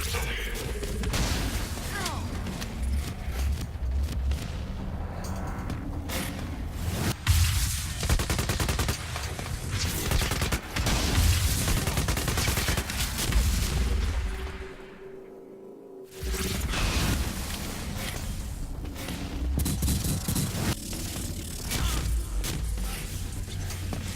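Heavy gunfire from Chronantech juggernauts in heavy-duty exoskeletons firing custom-built weapons in the Quantum Break video game, with dense bursts, whooshes and booms running almost throughout, briefly dropping out near the middle, and someone talking over the action.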